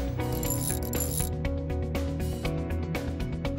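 AIM jack screw turned counterclockwise two turns, a run of mechanical clicks and ratcheting ticks over steady tonal background music, close and fairly loud.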